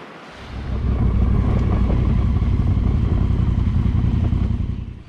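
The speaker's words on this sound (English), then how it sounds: "Private beach in Koh Lanta." Surf rolls onto a private beach on Koh Lanta, Thailand, as a loud, continuous wash of waves with a low rumble, mixed with wind buffeting the microphone.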